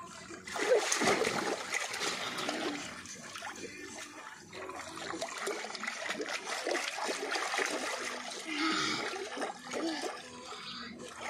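Splashing and sloshing of water as someone bathes, a continuous run of irregular splatters and trickles at close range, with faint voices in the background.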